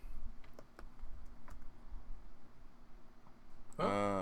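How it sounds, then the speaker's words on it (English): A computer keyboard is typed on slowly, with scattered separate keystrokes and clicks close by, ending in a short burst of a louder tonal sound. "He's slow typing."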